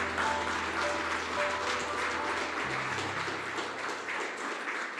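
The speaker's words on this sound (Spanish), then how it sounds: "démosle un fuerte aplauso al Señor" A church congregation applauds steadily and loudly throughout, a dense wash of clapping with no pauses.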